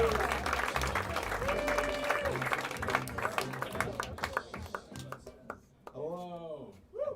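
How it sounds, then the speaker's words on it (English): Audience applause at a stand-up comedy show in Chicago rises then thins into scattered claps, with voices talking over it and a few whoops near the end. "Start clap right now for Chris Higgins, everybody."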